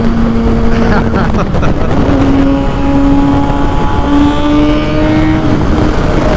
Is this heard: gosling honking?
no